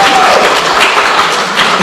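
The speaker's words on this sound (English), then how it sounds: "Round of applause for this team." A quiz night crowd gives a team a short round of applause, loud close clapping lasting under two seconds.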